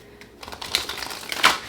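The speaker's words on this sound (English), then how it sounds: "Let's get 2 more shuffles." Tarot cards are shuffled close up, with quiet rustling that builds into a sharper flurry of riffles and slaps toward the end, and no talking over it.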